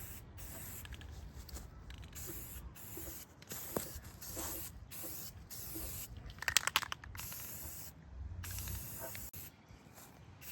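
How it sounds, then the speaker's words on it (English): Etching primer sprayed from an aerosol can onto a 2007 KX250 two-stroke motorcycle part, steady close hissing bursts separated by brief pauses, with faint rattling in between. "Hit it with the etching primer."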